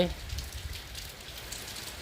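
Heavy rain pours down steadily at night in a rural setting, a constant close hiss of drops on surfaces.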